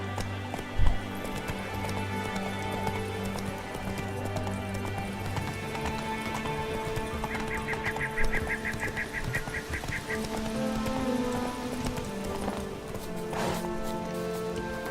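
A horse gallops in The Witcher video game with a steady, rapid clip-clop of hooves running throughout, layered under background game music and ambience, with a brief sharp thump near the start.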